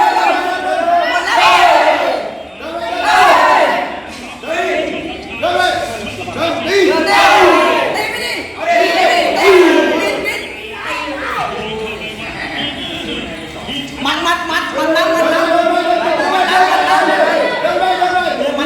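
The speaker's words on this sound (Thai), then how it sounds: "เชียร์กองเชียร์กองเชียร์กำลังมาแล้ว" At a Muay Thai fight, a cheering squad shouts in rhythmic bursts and loud chants that rise and fall over several seconds, with crowd chatter between the calls.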